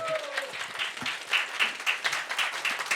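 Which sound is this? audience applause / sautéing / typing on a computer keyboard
audience applause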